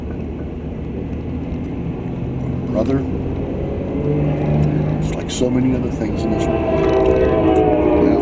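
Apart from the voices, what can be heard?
Amtrak Cascades passenger train passing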